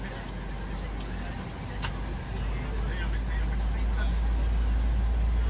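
Engine 2 of a Boeing 737 in Microsoft Flight Simulator spools up, a low rumbling hum steadily building in loudness, with faint clicks and cockpit noise over it.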